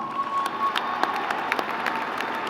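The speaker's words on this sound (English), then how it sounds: "Give them a round of applause." Commencement audience at an Indiana State University spring ceremony applauding parents and mentors, a steady, moderately distant wash of clapping from a large crowd with scattered sharper claps.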